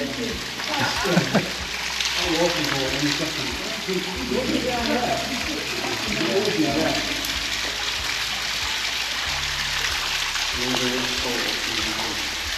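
Water leaks through a breeze block wall inside a flooded tunnel, a continuous trickling and gushing, with someone talking over it throughout.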